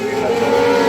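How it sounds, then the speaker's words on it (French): A racing motorcycle roars past at a race, a loud, continuous engine howl with steady harmonics filling the short moment, with no pause and no voices. "On a vu Jérôme Varlet repasser avec sa moto bleu clair en 6e position."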